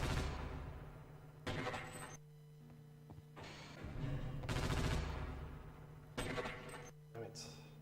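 Gunshots in Half-Life: Opposing Force, a handful of separate loud bursts spaced a second or so apart, with game sounds and a faint hum between them.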